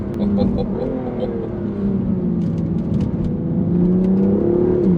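A BMW M2 CS engine droning steadily on a race track, a loud, continuous near drone with slowly shifting pitch as it holds speed and builds slightly toward the end.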